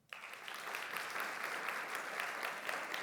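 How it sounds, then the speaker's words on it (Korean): A church congregation at a Sunday service bursts into applause after a brief quiet start, rather soft and distant clapping that continues evenly to the end. "우리 박수 한번 해"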